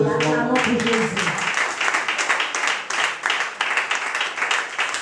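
A church congregation breaks into steady applause after a prayer in Jesus' name, dense clapping carrying on for several seconds and filling the room at moderate loudness.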